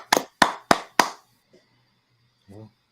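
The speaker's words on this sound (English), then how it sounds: "Come on, Corey, give a clap." Four sharp, evenly spaced hand claps close up, then near silence with a brief voice at the end.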